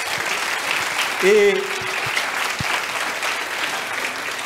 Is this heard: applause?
yes